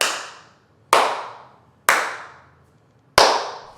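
Four sharp hand claps spaced about a second apart ring out in an untreated bedroom home studio live room, each followed by a bright, lingering room reverb tail, with no voices.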